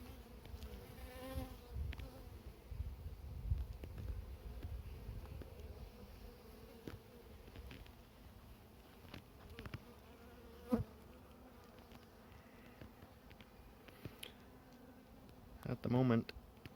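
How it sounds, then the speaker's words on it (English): Honey bees hum at an open hive during an inspection, a quiet, continuous buzzing close by with individual bees droning past, and a short louder burst near the end. "Just a bunch of bees."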